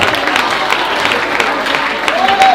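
A crowd at a Santa Cecilia celebration bursts into loud, continuous applause, close and full-bodied, with some cheering voices woven through the clapping.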